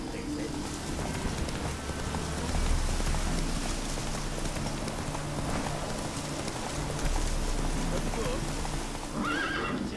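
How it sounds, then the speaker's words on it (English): Rain falls in the video game The Witcher 3: Wild Hunt as a steady broadband patter, mixed with a horse's whinny, hoofbeats and some talk throughout. "Looks like rain."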